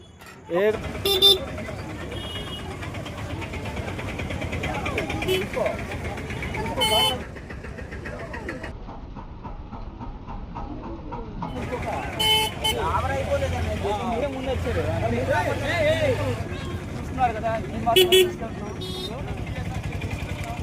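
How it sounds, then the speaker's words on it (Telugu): Vehicle on a busy market street with horn toots and engine noise passing among ongoing voices and crowd chatter, several short honks standing out over the steady bustle. "ఓకే బండి వస్తుంది ఒకసారి తప్పుకోండి."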